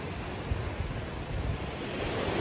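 Ocean waves wash steadily onto the shoreline at a sea-glass beach, a continuous broad roar of surf with light wind buffeting the microphone and no voices.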